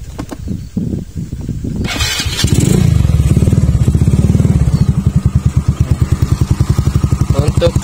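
A Yamaha Mio Smile motorcycle with an aftermarket exhaust starts with a few clattery thumps, then settles into a steady, low, pulsing exhaust idle close by.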